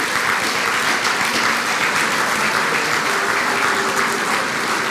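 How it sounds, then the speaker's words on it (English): A hall of fame ceremony crowd applauds its cooperative inductees, a broad, even wash of clapping from many hands that holds steady from start to finish. "Join me in a round of applause for all 5 of our 2024 inductees."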